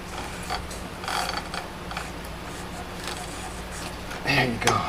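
A drive belt worked off a woodworking planer with a Shelix cutting head, giving creaking, ratcheting rubbery scrapes and small mechanical clunks close by, pulled bit by bit, with a louder rattle near the end.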